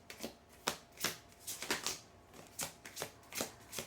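Tarot cards are shuffled up close, a quick series of riffling, flicking bursts in an irregular rhythm, with no talking.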